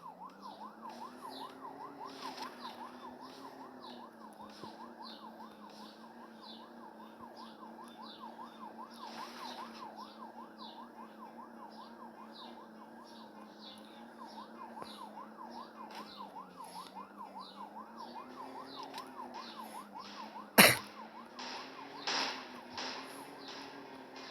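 A police car siren wails continuously in a GTA-style video game, cycling steadily throughout, joined near the end by one sharp loud bang and a couple of smaller knocks.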